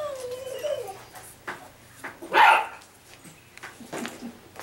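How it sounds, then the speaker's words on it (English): A five-week-old puppy yips and whimpers at its mother, then lets out one louder, higher bark, with softer whines around it, close by in a quiet room. "barking at his mama"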